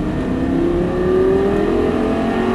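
A Lamborghini Gallardo engine pulls steadily on a race track, its loud, even drone rising slowly in pitch as the throttle is squeezed, with no voices.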